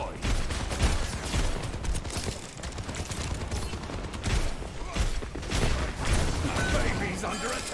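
Turret firing in World of Warcraft Classic: dense rapid gunfire bursts and mechanical clatter, loud and continuous, with game voice lines over the shooting.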